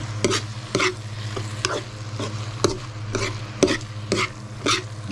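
Chicken liver frying in a pan, with a steady sizzle under regular scraping stirs of the utensil against the pan, about two strokes per second, close and clear with no talking.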